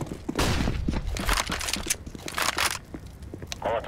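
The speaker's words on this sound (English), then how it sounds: "Flashbang." A flashbang grenade goes off in Counter-Strike: Global Offensive, amid dense bursts of gunfire-like cracks and crunchy clatter; a voice is faintly present under the busy game noise.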